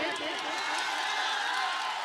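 Crowd at a political rally clapping and cheering, a steady wash of applause and shouts lasting the whole stretch, moderately loud and continuous.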